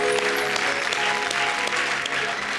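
Audience applause at a Hindi comedy poetry show, a loud, steady wash of clapping from a large crowd, sustained throughout.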